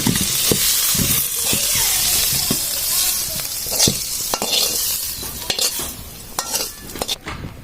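Pumpkin bhaji sizzles loudly in a pan while a utensil scrapes and stirs it in irregular clattering strokes over a continuous frying hiss.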